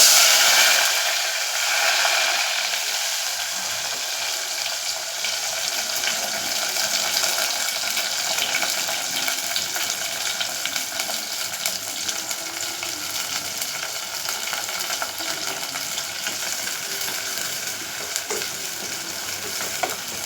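Shallots sizzling and frying in a pan with tomato, garlic, curry leaves and green chillies, a steady bright crackle and hiss that runs on without break, close and loud, with occasional stirring.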